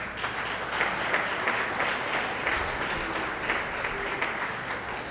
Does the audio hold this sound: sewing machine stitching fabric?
no